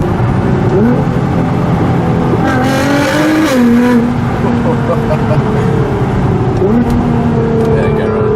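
Onboard a 2014 Nissan GT-R R35 fitted with an Armytrix titanium exhaust: a loud, continuous engine drone that climbs and shifts pitch through several rev changes, with voices talking over it throughout.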